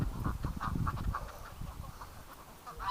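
Ducks quacking inside a barn in winter, a flock close by giving repeated, overlapping quacks in a steady run that eases off briefly before picking up again.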